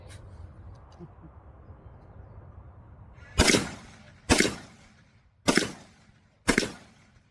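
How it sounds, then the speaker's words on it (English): Four sharp rifle shots of 7.62x39 black tip ammunition fired from an AKM-pattern rifle outdoors, evenly spaced about a second apart, each a loud crack with a short echoing tail after a quiet lead-in. "Black Tip ammunition, 4 rounds. See how well that fares."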